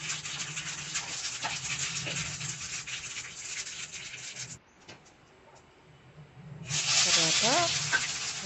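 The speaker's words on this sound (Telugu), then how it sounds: "ఆయిల్ హీట్ అయినాక పచ్చిశనగపప్పు, ఆవాలు, జీలకర్ర" Chana dal, mustard seeds and cumin seeds sizzling in hot oil while cooking brinjal fry, a steady loud hiss that briefly drops out and returns stronger, with faint crackles.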